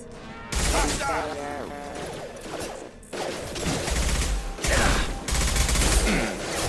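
Gunfire from the Mass Effect 2 video game during a colony battle, sustained loud bursts of weapon fire and impacts layered with game music and effects, with voices speaking over parts of it.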